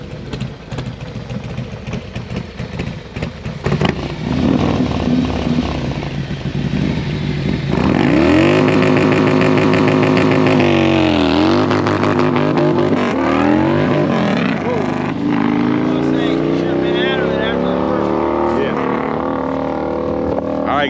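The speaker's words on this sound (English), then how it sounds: "He's gonna ride the motorcycle down the track." A 2024 Harley-Davidson Road Glide with a 528 Red Shift Cam roars loudly down a drag strip, its engine revving hard and climbing through gears after a quieter idle at the start.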